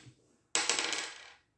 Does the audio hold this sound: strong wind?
no